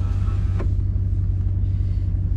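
A RAM 1500 pickup in two-wheel drive accelerates on snow, its engine a loud, close, steady low rumble that holds throughout, with no speech.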